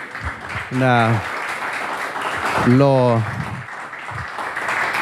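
Audience at an Adventist history talk applauds after a presentation, a steady moderate patter of clapping running throughout, with a voice speaking over it twice.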